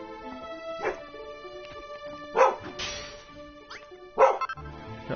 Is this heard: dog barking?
yes